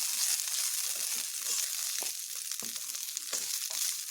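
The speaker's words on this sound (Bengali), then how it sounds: "চালগুলোকে একটু ভালোভাবে ভেজে নেব" Rice grains frying slowly in a pan over low to medium heat, giving a steady close sizzle with occasional soft crackles and stirring scrapes throughout.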